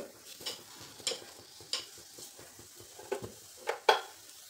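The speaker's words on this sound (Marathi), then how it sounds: "अशी परतली ना थोडीशी अशी वितळल्यासारखी होते खजूर" Dates being sautéed in a pan until they soften and melt, with soft intermittent stirring and scraping over a faint sizzle, a few louder spoon clinks standing out.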